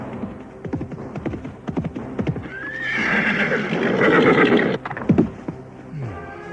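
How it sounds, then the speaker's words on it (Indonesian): A riding horse in an audio drama sound effect: rhythmic clip-clop hoofbeats at a gallop, a loud whinny in the middle, then more hoofbeats and a snort, close and clear with no talk. "Dipacunya kuda tunggangan itu cepat-cepat, tapi bagi Rakuti kuda itu tetap saja terasa"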